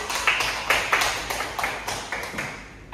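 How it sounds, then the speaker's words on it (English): A class gives applause during a micro-teaching lesson: slow, evenly spaced claps ring out one after another, loud and near, each with a short room echo, slowly fading toward the end. "Give applause, guys."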